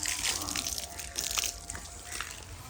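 Irrigation water running into a furrowed okra field in a village, a quiet continuous splashing and trickling flow with small drips, fairly close, with faint background sounds and no clear talk.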